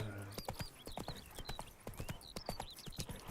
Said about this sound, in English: Where the fuck is this horse going?